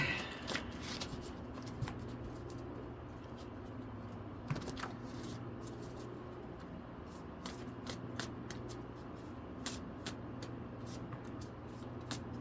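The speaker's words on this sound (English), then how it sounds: "I'm going to shuffle these up really quick" Steady riffling and soft slapping of a deck of tarot or oracle cards being shuffled, a continuous papery rustle with a few sharper snaps, close and fairly quiet.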